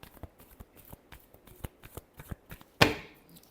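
Tarot cards being shuffled by hand, a series of soft close riffling flicks and taps, ending in one sharp louder snap of the deck.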